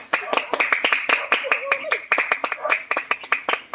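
A small group claps hands in quick, uneven bursts, sharp and close, with voices mixed in throughout.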